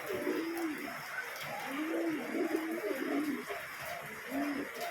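Pigeons coo repeatedly inside their coop while being fed on a rainy day, with layered, rolling low calls from several birds at close range, a steady background hiss and a faint voice now and then.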